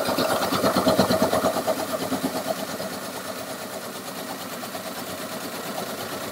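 An ice shaver machine grinds through a block of ice with a steady, rapid whirring buzz close by, slightly louder at first and then settling into an even drone.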